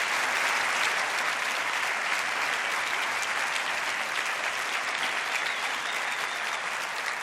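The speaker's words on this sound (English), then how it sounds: "Let's have another big round of applause for 3 fantastic young riders." A crowd at the 2019 FIM MotoGP Awards gives sustained, loud applause for the Moto3 podium riders, dense clapping that holds steady throughout.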